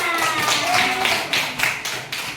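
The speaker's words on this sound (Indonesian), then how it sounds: "Tepuk tangan." Children clap in a classroom, a quick series of sharp, close handclaps in a loose rhythm with a faint voice heard at the start.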